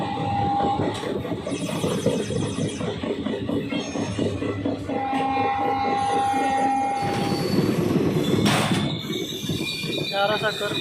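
The Delhi–Fazilka Intercity Express rushes past at about 110 km/h, a steady loud rumble of wheels on rails with high metallic squeals and a horn tone cutting through.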